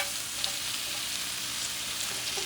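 Korean kalbi beef ribs frying in a pan give off a steady, close sizzle with a constant hiss and scattered small pops throughout.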